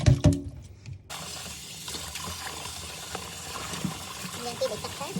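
Water is poured or run over half a kilo of chicken being washed for marinating in a home kitchen, with a brief splash and clatter at the start. A steady, soft watery rush follows, running unbroken throughout at moderate level.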